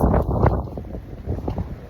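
Strong wind in Qatar buffets the microphone with a loud, continuous low rumble and gusty roar that never lets up across the clip.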